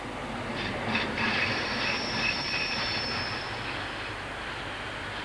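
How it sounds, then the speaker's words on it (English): A train rolls across Proof House railway junction near midnight, a broad steady rumble of wheels on rails with faint metallic squeals, moderately distant and continuous without speech. "the last train runs across Proof House Junction"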